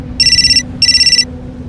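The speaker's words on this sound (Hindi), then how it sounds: "कनक का फोन बजा।" A phone ringtone plays loudly in two short bursts of rapid, trilling electronic beeps separated by a brief gap, with no one speaking.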